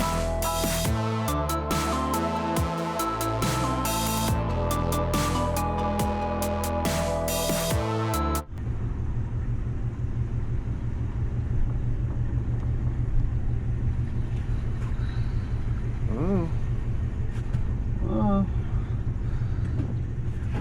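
Loud music plays at first, then gives way to a 1968 Impala engine idling while reversing, after five years sitting, with a steady, low, rumbling throb that continues to the end.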